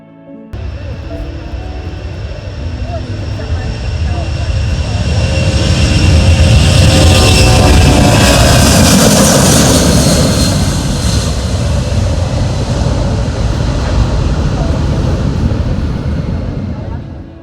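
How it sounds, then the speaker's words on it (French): An airplane at Gibraltar airport, an air and naval base, produces a loud, broad engine roar that swells to a peak midway and then holds strong as it passes close by. "Il y a une dizaine d'avions qui s'y posent chaque jour"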